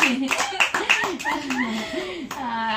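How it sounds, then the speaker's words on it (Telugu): A few quick hand claps applaud a child's answer, sharp and close, mixed in with lively adult talk throughout. "ఇప్పుడు నిజంగా నీకు క్లాప్స్ అనమాట"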